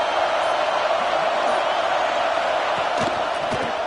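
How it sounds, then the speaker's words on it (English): Stadium crowd at a college football game, a dense, steady roar of many voices filling the space, with faint scattered shouts and thumps and no clear single speaker. "Listen to the crowd energy here in the early going."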